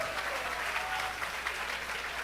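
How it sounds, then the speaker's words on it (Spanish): A church congregation claps for Christ at an anniversary service, dense sustained applause filling the room without a break and no clear speech on top. "Dale palmas a Cristo."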